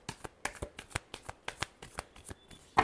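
Tarot cards are shuffled by hand in a quick run of about a dozen crisp riffling flicks, close and fairly quiet, ending on a sharper snap.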